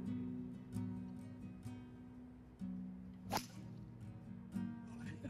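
A golf club strikes a ball at a driving range after dark, one sharp crack midway over a steady low background hum, with no talk.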